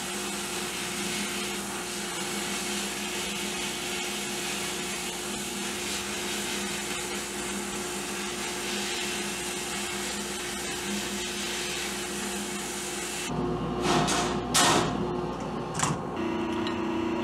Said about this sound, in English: So we'll just pop over to the bead blaster right now.